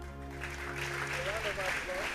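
Audience applause at a tech career panel, with clapping under a steady low hum and faint voices or a tonal sound, fairly quiet throughout.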